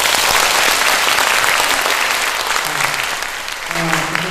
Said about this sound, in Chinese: 给他鼓掌一下